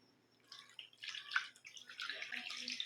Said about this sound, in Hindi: अब हम इसमें डालेंगे थोड़ा सा ठंडा पानी